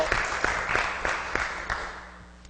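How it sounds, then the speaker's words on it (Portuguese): Audience applause at a public talk, a moderate crowd clapping in a loose rhythm of distinct claps that gradually thins and fades toward the end, with no talk over it. "Recebendo os aplausos!"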